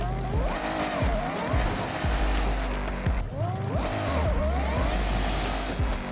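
A 1969 Dodge Charger in the Forza Horizon racing game revs loudly and continuously, its engine pitch climbing and dropping through repeated gear shifts, with tire squeal mixed in and no talking.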